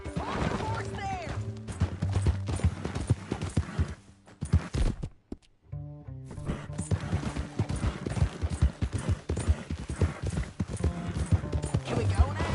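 Horse hooves clip-clop steadily in Red Dead Redemption 2, a continuous rhythmic trotting amid game sounds and music, pausing briefly midway before resuming.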